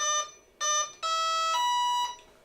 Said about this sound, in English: And you hear some beeps.